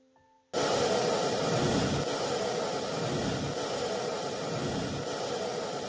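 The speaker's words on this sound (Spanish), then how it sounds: "Este ha sido el sonido del ruido rosa." Pink noise test signal plays through loudspeakers wired with a tweeter-path connection: after a brief quiet start, a loud, steady broadband hiss switches on abruptly and holds evenly to the end.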